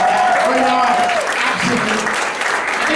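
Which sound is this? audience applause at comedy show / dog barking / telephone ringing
audience applause at comedy show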